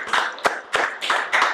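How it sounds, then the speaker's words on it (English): A handful of people on a podcast set clap in short, separate bursts, about five sharp clusters of claps close to the microphone with brief pauses between them. "Let's clap it up."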